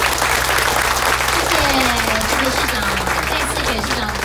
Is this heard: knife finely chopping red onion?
no